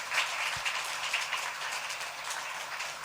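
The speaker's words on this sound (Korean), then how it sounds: "우리 다시 한번 격려 박수 한번 할까요?" A church congregation applauds during a Sunday worship service, a steady wash of many hands clapping at moderate distance with no voices over it.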